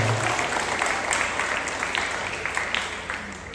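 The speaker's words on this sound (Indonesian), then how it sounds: "Ya, tepuk tangan untuk mereka dua." Wedding guests at a Lun Bawang ceremony clap for the couple, a steady, fairly loud burst of applause that tapers slightly toward the end.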